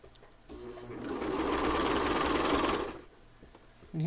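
Coverstitch sewing machine stitching a neckband, a steady mechanical whir that starts after a half-second, runs at an even rate for about two and a half seconds, then stops, with a small clunk at the end.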